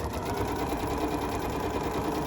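A Janome MC9450 sewing machine stitches quilting lines in a steady, continuous whir, close and fairly quiet, running alone with no talk throughout.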